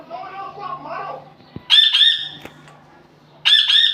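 House sparrow chirping in a home setting, two loud bursts of repeated harsh squawking chirps close by, with softer mixed background sound and faint voices before them.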